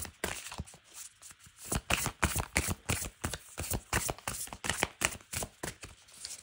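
Oracle cards being shuffled for a relationship reading, a steady run of quick riffling snaps and soft slaps repeating at close range with no talking.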